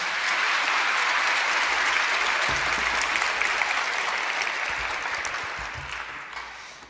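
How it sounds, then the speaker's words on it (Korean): Church congregation at an early-morning prayer service applauding to welcome the pastor, steady dense clapping from many people, sustained and even, tapering slightly at the end. "우리 목사님 축복과 환영의 박수로 맞이해 주시기 바랍니다"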